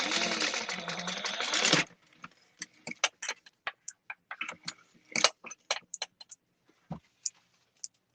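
An industrial sewing machine stitching an ID wristlet whirs loudly and steadily for a couple of seconds, then stops, followed by a scatter of sharp, quiet ticks and clicks of handling.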